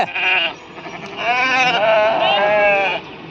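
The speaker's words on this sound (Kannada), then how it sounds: "ನೋಡಿ ದೋಸ್ತ್ರ ಅರವತ್ತು ಕುರಿ ಐತ್ರಿ ಇಪ್ಪತ್ತೇಳು ಮರಿ ಐತ್ರಿ" Sheep and lambs bleat repeatedly at a livestock market in Mudhol, several wavering calls overlapping close by, loud and continuous with no talking.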